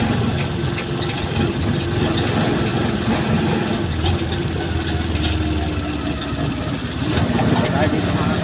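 A steady low engine idles continuously, a constant rumbling hum with faint background noise and no clear changes in pitch.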